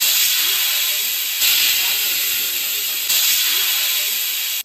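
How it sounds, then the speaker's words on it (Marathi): A pressure cooker whistles while cooking chicken biryani at home, giving a loud, continuous hissing rush of steam that surges anew at three points, then cuts off sharply at the end. "आता फक्त मम्मी कुकर लावणार आणि 3 शिट्ट्या देणार"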